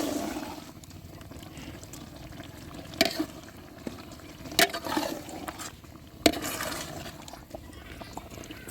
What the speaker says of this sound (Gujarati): આપણે જે ટમેટાનો આપણે જે સોસ બનાવ્યો છે એ ટમેટાનો સોસ હવે નાખી દઈશું આપણે. તો હવે એ આપણે મિક્સ કરી દઉં.